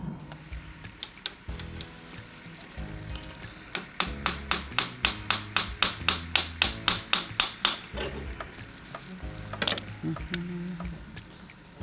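Hammer tapping a socket down onto a Harley Fat Bob motorcycle fork cap, about sixteen to eighteen evenly spaced sharp metallic taps in a steady run, close and clear, with a few scattered knocks before and after.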